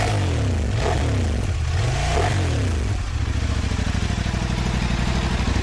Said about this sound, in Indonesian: Suaranya gahar banget, kayak mesin crossplane bang ya.